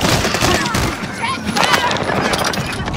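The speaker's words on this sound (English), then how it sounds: "Taking heavy fire." Gunfire in the Call of Duty: Modern Warfare video game, a dense run of overlapping shots and crackling impacts throughout, loud and busy, with game voices over it.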